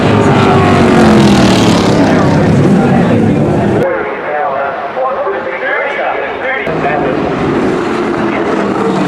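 A muscle car's big engine runs in a loud, rough, continuous roar with an abrupt cut partway through, while a voice talks over it.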